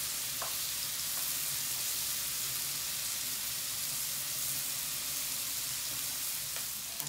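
Bacon sizzles and crackles in a pan, a continuous close hiss with scattered small pops and a brief stirring scrape, with no voices over it.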